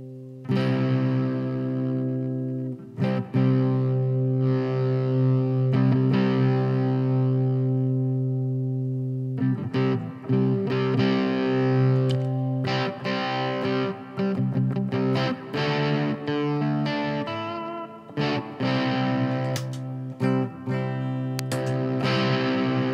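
Electric guitar played through Mosky 4-in-1 and Zoom G1Four pedals into a Park G10 amp in a DIY isolation cabinet, distorted sustained chords and riffs with effects, loud and continuous with brief gaps.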